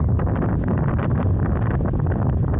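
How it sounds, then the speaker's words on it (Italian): Strong wind roaring across a clifftop above the sea near Tangier, a loud, continuous buffeting rush that batters the microphone without pause. "Peccato con questo vento qua."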